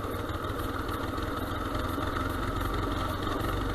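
A dirt bike engine running steadily close by, a continuous idling putter with a buzzy mid-range drone and no pauses.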